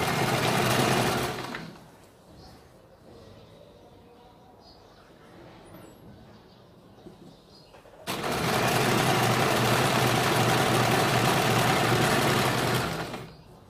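An electric sewing machine stitching a kurti runs in two loud steady bursts, a short one at the start and a longer one near the end, with a quiet pause between.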